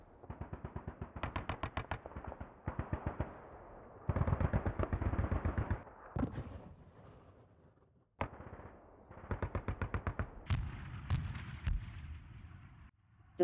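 Rapid bursts of automatic gunfire in Garry's Mod, loud and close, coming in repeated stuttering volleys with brief pauses, plus a few sharper single shots and heavier booming impacts.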